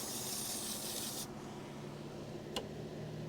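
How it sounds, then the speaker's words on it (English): A steady aerosol spray of brake cleaner hisses for just over a second, then fades into quiet background noise with a brief faint click. "I'm going to go ahead and spray it with some brake clean"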